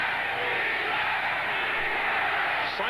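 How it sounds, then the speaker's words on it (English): A football stadium crowd at a Cleveland Browns versus Denver Broncos game roars in a broad, sustained wash of chanting voices, loud and unbroken throughout. "Chant of defense from the crowd."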